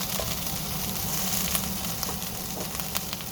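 Chicken for Bisaya-style tinola fries in a pan with a steady, loud sizzle and light crackling pops throughout, with no voices over it.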